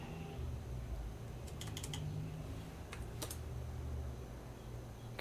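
Quiet typing on a computer keyboard while working in CAD software, a few short bursts of light clicks over a low background hum.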